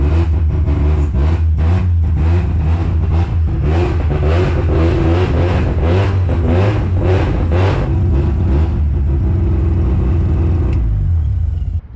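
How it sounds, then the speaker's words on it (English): A Mazda RX-7 race car's engine revs loudly and repeatedly as the car moves under its own power, a deep rumbling drone pulsing with throttle blips before cutting off abruptly near the end. "Car moves under its own power."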